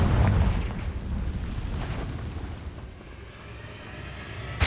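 Confringo fire spell exploding in the Hogwarts Legacy video game, a heavy booming blast at the start that rumbles and fades, followed by a sharp pop at the very end.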